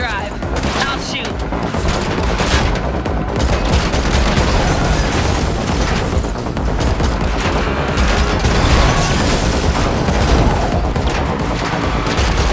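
Dense, continuous gunfire and explosive booms during a car chase in The Matrix Awakens, an Unreal Engine 5 game, loud and unbroken throughout with voices and score mixed underneath.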